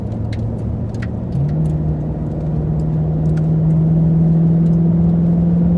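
A Chevrolet Impala SS engine drones steadily as the car rounds a bend on a race track, the tone rising slightly as the driver holds speed through the turn, loud and close with no talking.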